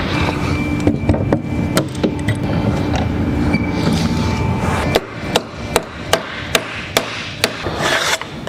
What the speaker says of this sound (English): And of course, here comes the train.